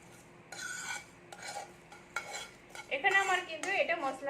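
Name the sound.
spices being lightly dry-roasted in a pan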